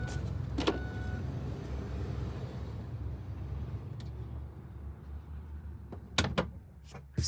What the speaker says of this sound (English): the two-way option to close the sliding door is by that power button